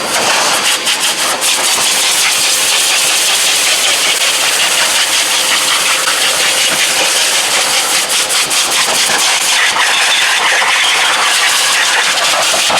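BigBoi BlowR Pro car dryer blowing heated air over car tires, a loud, steady, broadband rushing roar with slight fluctuations, running continuously without talk.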